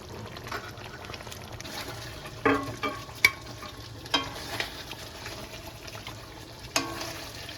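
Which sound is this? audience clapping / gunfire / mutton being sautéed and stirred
mutton being sautéed and stirred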